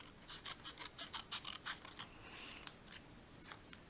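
Scissors cut a small scrap piece of paper for a tiny treat box craft, a quick series of about a dozen crisp close snips followed by a few softer slicing strokes.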